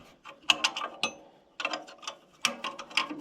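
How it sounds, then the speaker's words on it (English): A wrench ratchets on a bolt while removing a tractor seat, giving quick clusters of metallic clicks in three bursts separated by brief pauses, close and fairly crisp. "I'm just going to take it out with a wrench"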